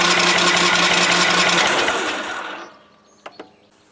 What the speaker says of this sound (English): Okay, we're ready to crank the engine.